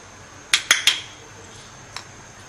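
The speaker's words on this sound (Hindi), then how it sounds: "अब इनको अच्छे से मिक्स कर लेंगे" A utensil taps three quick clinks against a bowl while mixing flour with black pepper and salt, followed by a single lighter tap after a short pause, close and clear over faint room noise.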